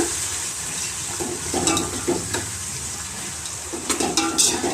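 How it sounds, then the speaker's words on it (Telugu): Tomatoes sizzle and fry in a pan with cashews while being stirred, with intermittent scraping and clinking of a utensil against the pan over a steady frying hiss, recorded close up with no talking. "ఇప్పుడు జీడిపప్పు కూడా వేగినాయి కదా టమాటాలు వేస్తున్నాము"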